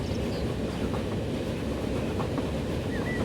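A train from the Transport Fever 2 video game, an express service on a UK mod route, makes a steady low rumble as it runs along the track, with faint clicks and squeals above it.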